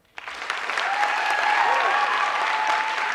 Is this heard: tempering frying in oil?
no